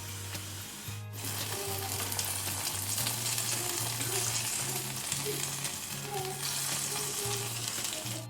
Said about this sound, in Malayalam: ഇതിനെ നമുക്ക് നമ്മുടെ പായസത്തിലേക്ക് ഒഴിച്ചു കൊടുക്കാം